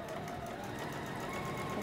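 A sewing machine stitches a fabric sacoche bag with a zipper pocket, giving a steady, continuous mechanical whir at close range with no pauses and no talk.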